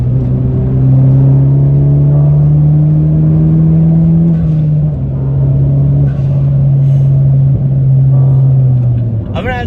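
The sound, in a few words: Honda Civic Si exhaust with PRL catless downpipe, revving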